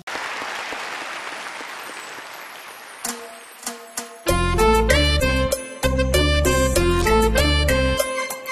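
An audience at a live golden-era Vietnamese music concert gives a few seconds of dense applause, which fades as band music with piano-like notes strikes up and continues loudly.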